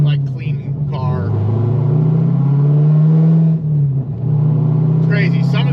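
A Corvette C6 Z06 with a titanium straight-piped exhaust drones loudly and steadily while driving, its deep exhaust note swelling briefly before a short lift and another pull, with someone talking at the start and end.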